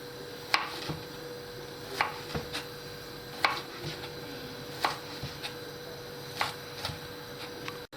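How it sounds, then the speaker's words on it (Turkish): A knife chops onions on a cutting board in sharp, irregular strikes, about a dozen over several seconds, close by in a quiet room. "soğanlarımı küçük küçük doğradım"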